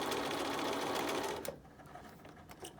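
An electric sewing machine stitches a fabric face mask closed with a steady, close whir for about a second and a half, then stops, leaving quiet room tone with small handling sounds.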